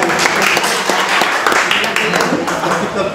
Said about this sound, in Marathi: सर्वांनी टाळ्या वाजवून या ठिकाणी स्वागत करावे